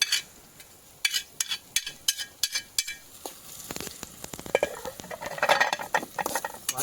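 Chopped tomatoes dropped into onions frying in a pan outdoors, followed by steady scraping and stirring, with sizzling building louder toward the end, close and without talk.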